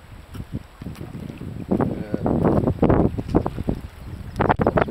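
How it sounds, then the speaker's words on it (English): Gusty wind buffets the microphone outdoors in the Boundary Waters wilderness with a rough, rushing roar that swells and fades, alongside splashy, watery noise. "Wet and windy."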